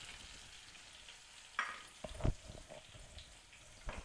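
Chopped onions frying in a pan for Tamil-style potato masala, a steady soft sizzle with a few sharper clinks and scrapes of stirring near the middle and end, no talking.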